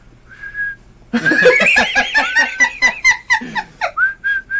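A person imitates a loud whistle being blown, producing short, steady high tones at the start and end, with a burst of group laughter in between during a tabletop roleplaying game session.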